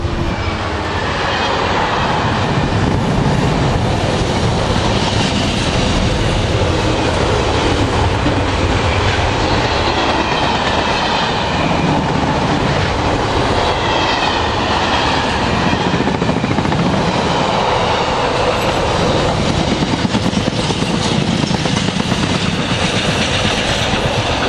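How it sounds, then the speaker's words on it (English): Class 66 diesel freight train passing Werrington Junction, a loud, steady, continuous roar of engine and rolling wagons with rhythmic clickety-clack of wheels over rail joints, filling the whole stretch without pause. "that was 66540, first freight for about an hour"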